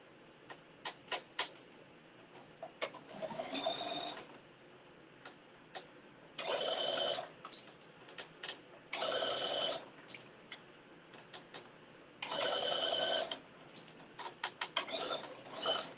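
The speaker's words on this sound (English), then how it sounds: "I am just going to switch my machine settings back to my basting stitch, and then I'm going to baste them together." Home sewing machine running a basting stitch on bikini fabric: several bursts of whirring, each lasting about one to one and a half seconds, close and steady, with clicks and ticks between bursts and no talking.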